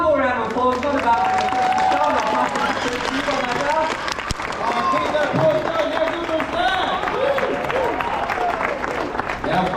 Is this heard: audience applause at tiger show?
yes